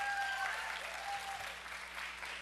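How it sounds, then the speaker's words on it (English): Audience applause at a live comedy show on the Blue-Tooth Comedy Tour: a dense burst of clapping from a crowd that fills the short stretch at steady strength and then tapers slightly. "By a round of applause."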